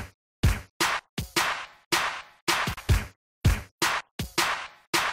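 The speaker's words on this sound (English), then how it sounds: "these drums together all sound like this" Drums sequenced individually in a drum rack play together, a sparse pattern of punchy, sharply separated hits with short decays and silent gaps between them, up close and dry, with no talking.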